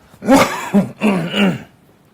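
A person coughs and clears their throat close up, a few rough guttural bursts in quick succession, then quiet.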